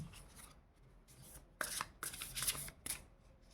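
Tarot or oracle reading cards being drawn and shuffled, with several bursts of crisp riffling and sliding card noise after a quieter start, close and fairly soft, with no talk.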